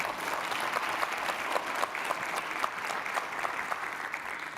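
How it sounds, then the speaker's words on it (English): An audience at a League of Women Voters national conference panel claps steadily, a full, even wash of many hands applauding at a moderate level without speech. "yes, you can clap."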